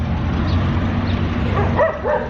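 Dogs barking and yipping at a distance near the huge sinkhole in Mexico, a few short calls rising over steady traffic and outdoor background noise.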